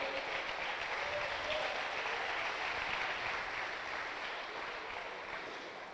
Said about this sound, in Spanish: vamos a regalarle un aplauso fuerte al Señor